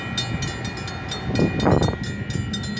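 Norfolk Southern freight train NS 265, 129 cars long, rolling slowly through Gainesville, Georgia under a speed restriction; a continuous rumble and rattle of passing cars with a steady tonal whine, fairly close.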